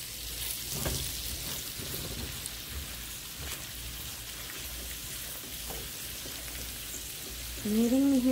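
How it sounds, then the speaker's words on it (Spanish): Tomato sauce with onion coming to a boil in a pot, giving a steady soft bubbling, sizzling hiss, close and even throughout, with a brief low tone near the end. "la salsita también aquí ya está empezando a hervir"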